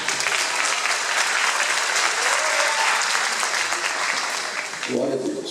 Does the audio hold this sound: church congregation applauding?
yes